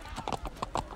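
Horse hooves clip-clop quickly in a short galloping run during the first episode of The Walking Dead, several close, uneven hoofbeats over a faint background.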